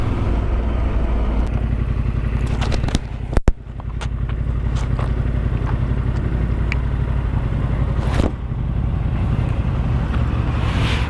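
A motorcycle rides out of Bridport, its engine a steady loud rumble with wind buffeting throughout, a brief clunk or jolt partway through, the drone holding constant.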